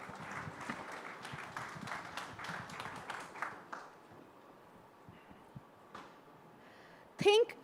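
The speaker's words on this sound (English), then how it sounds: "A huge round of applause," An audience at an AI summit session applauds with a soft, scattered patter of clapping that fades out after a few seconds, followed by a brief voice near the end.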